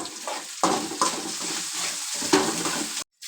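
Chopped kalmi greens are stirred with turmeric powder in a pan, with a steady sizzle under repeated scrapes and knocks of a spoon against the metal. The sound stops abruptly near the end.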